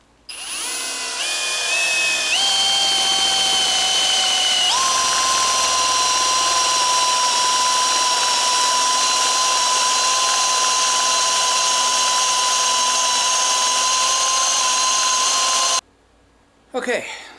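A Milwaukee 18-volt cordless drill with a freshly hand-sharpened bit cuts into metal, a loud, steady, high whine that shifts pitch early on, holds for about fifteen seconds, then cuts off, with a brief clatter at the end.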